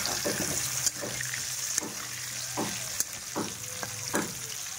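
Fish fry in hot oil with a steady, close sizzle and crackle that runs throughout. Occasional sharp clicks and light clatters of utensils sound over it, and no one speaks.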